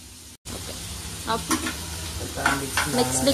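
Onion dropped into a hot pan sets off a brief hiss that settles into a steady sizzle, overlaid by stirring clinks and scrapes, close and fairly loud, with no speech.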